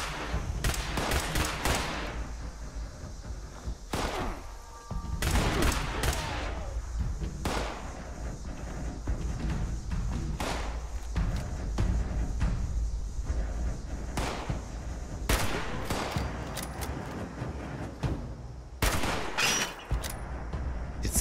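Repeated video game gunshots crack in irregular bursts over a steady background, some single, some in quick clusters, loud and close throughout.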